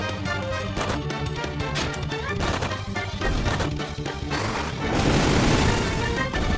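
Fire spell striking a group of enemies in the Final Fantasy 1 Pixel Remaster, a string of loud crashing impacts and bursts over game music, building into a dense roaring blast near the end.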